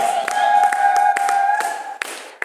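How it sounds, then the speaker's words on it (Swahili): A church congregation at an EAGT seminar claps in a steady rhythm, each clap a sharp burst over a held keyboard-like tone. "Hebu pigia Yesu makofi basi"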